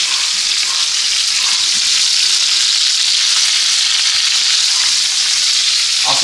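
New York strip steak frying with butter in a hot pan: a loud, steady, close hiss of sizzling fat that fills the whole stretch without a break, and no voices.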